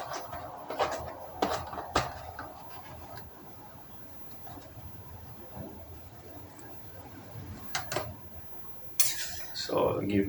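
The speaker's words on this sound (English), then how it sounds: "So give this a stir." Vegetable soup stirred in a pot for a Jamaican recipe, with a utensil scraping and clinking against the pot in scattered knocks, one louder clatter near the end, over a steady kitchen background.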